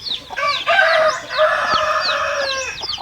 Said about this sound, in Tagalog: Ayan yung isa nating inahin din na lapisa